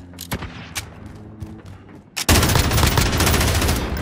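An MG34 machine gun in Call of Duty Modern Warfare, a few sharp single shots and then a sudden loud, sustained burst of rapid automatic fire that runs to the end.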